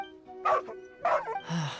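Dog in the video game Genshin Impact, giving a few short separate barks over a faint sustained background tone, close and clear with no talk.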